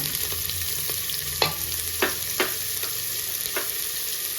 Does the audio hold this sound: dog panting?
no